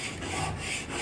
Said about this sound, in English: And it depends how fast you want to sharpen your chisel.